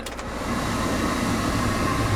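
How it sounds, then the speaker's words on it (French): A steady, loud air-conditioning blower hums and whooshes continuously inside a truck on a 33-degree day, with a couple of brief clicks at the start. "On va partir la clim."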